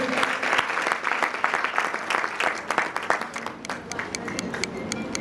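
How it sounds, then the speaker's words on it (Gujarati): Audience applause at a women's self-employment training centre certificate distribution ceremony, a steady wash of many hands clapping close by for about five seconds, thinning slightly toward the end. "તાળીઓના ગડગડાટથી વધારી દઈશું"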